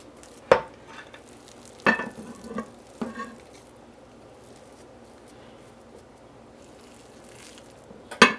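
Lemon is stirred into a dish in a pan during home cooking: a few sharp utensil scrapes and clinks spaced far apart, with quiet stretches between them and a final scrape near the end.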